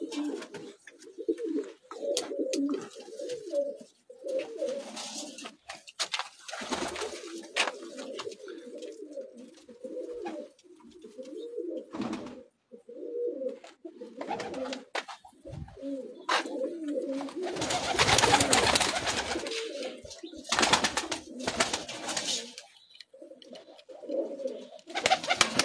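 Pigeons of a Pakistani rooftop loft, including the Pipla breed, keep up a near, continuous low cooing in rolling phrases, broken by sharper bursts of broadband noise such as wing flaps or handling.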